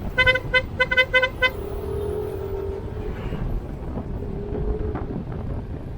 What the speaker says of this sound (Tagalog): Wala talaga, ang dami na talaga sasakyan eh.